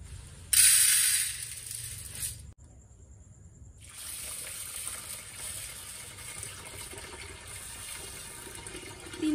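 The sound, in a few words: water poured to soak lentils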